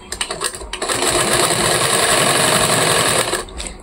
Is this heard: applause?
no